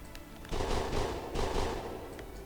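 Bursts of video game gunfire in Planet Explorers, two dense rapid volleys in quick succession over a steady background rumble, loud and close with no talk.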